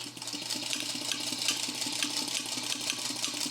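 A home sewing machine runs a long stitch set to six stitches per inch, giving a steady, close mechanical whir with a fast, even rhythm for the whole stretch and no talking.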